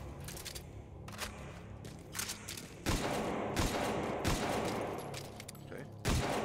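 Gunfire in the video game Metal Gear Survive crackles in a rapid series of sharp, loud shots, several clustered close together, over a constant background of in-game noise.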